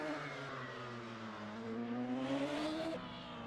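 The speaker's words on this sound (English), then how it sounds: "Those radicals are significantly louder than these other cars." Radical race cars in a racing video game during a multiclass endurance race at Feldbergring, a steady high-pitched engine drone rising as it revs, then dropping off, heard alone.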